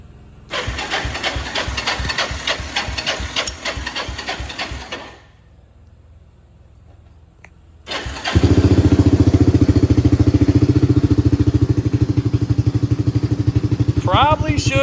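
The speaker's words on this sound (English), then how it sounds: "But you put the choke the right way, she fires right up." A Kawasaki KLT 250 three-wheeler with the choke on cranks with rapid rhythmic churning, pauses in near silence, then fires and settles into a loud, steady close-up idle.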